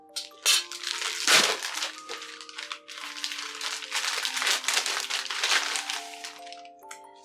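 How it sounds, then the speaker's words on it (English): Plastic packaging bag for a ring set being snipped open with scissors, a few sharp snips and crackles followed by bursts of crinkling plastic as the bag is handled up close, no talking. "I'm just going to snip the bag open first."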